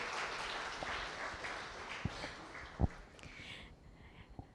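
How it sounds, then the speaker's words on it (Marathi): An audience gives sustained applause, a dense, hissing wash of many hands clapping, moderately distant, with a few louder individual claps standing out before it thins and fades toward the end. "ह्याच्याकरता आपण सामान्य नागरिकांनी जोरदार टाळ्या वाजवल्या पाहिजेत"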